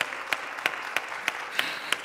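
Audience applause at a congress as an ovation for the translators: fairly faint, with sharp claps standing out at a steady, slow rhythm over a continuous wash of clapping.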